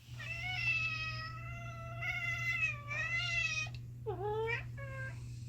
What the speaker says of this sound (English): she meowed in fright